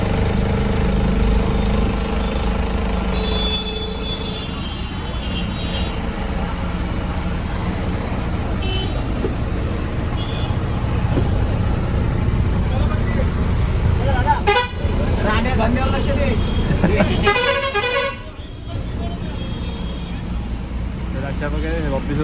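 Travel bus heading from Dombivli to Malvan, departing an office: a steady low engine rumble throughout, with horn toots and traffic noise and people talking over it.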